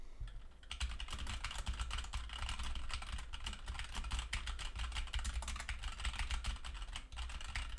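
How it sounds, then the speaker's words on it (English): Steady, rapid typing on a mechanical keyboard with linear red switches, dense soft clacks running continuously, close by with no talking. "I've got a linear red switch mechanical keyboard right here."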